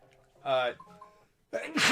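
A single close, sharp sneeze bursts out near the end. Brief talk and breathy sounds come just before it.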